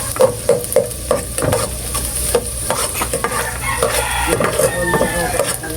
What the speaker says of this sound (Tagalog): Lagay na po tayo ng sibuyas.